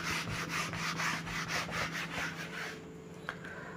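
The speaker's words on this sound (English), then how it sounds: "Let me rub this one now." Steady back-and-forth rubbing of an eraser or duster wiping chalk or marker writing off a board during a chemistry lesson, rhythmic strokes for about three seconds, then a faint tap and quiet room.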